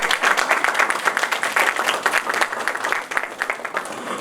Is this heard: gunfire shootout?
no